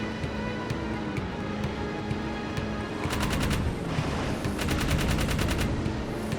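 Rapid bursts of video game gunfire from Jak 3 crackle in repeated volleys, with game sound effects and a steady background bed, getting denser and louder in the second half as shots are fired at eggs.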